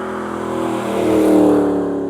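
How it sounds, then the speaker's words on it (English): A truck revs hard while beating on its tires, giving a loud, steady engine roar that swells in the middle and holds for about two seconds, with no talk over it. "here's some footage of the truck, beating on some tires and putting the brackets to use"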